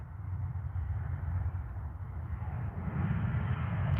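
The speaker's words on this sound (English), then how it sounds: "Oh, well, there goes Ryanair, folks." A Ryanair airliner passes at Manchester Airport as a distant, faint jet roar that swells slightly toward the end.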